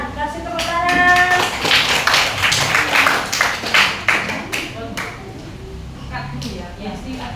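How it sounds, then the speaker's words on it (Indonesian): A class of children claps in a burst of quick, uneven hand claps that fades out, with voices talking over and after it. "Kasih tepuk tangan."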